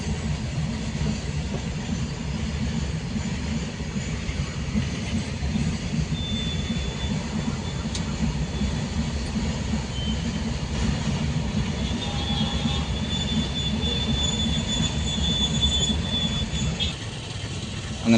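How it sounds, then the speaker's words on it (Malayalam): A train rolls steadily past a railway level crossing, its wheels rumbling and clattering close by with faint metallic squeals, continuous for the whole stretch. "അങ്ങനെ ട്രെയിൻ പോയി"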